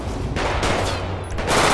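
Rapid micro SMG gunfire in Grand Theft Auto V, a dense loud rattle of overlapping bursts with game noise, fairly close and continuous, no talking heard.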